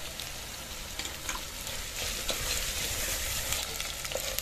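Chopped tomato sizzles in a frying pan while being stirred, a steady crackling fry with scraping stir strokes, close and fairly quiet, no talk.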